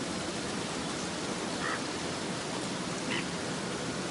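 Rain in the survival video game Don't Starve: an unbroken, even wash of hissing noise at a steady loud level, with no distinct drops or other events standing out.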